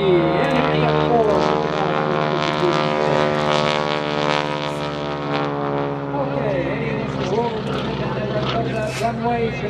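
A highly modified propeller airplane flying at an air show drones loudly with a steady harmonic engine tone that rises and falls as it passes, while an announcer talks over it.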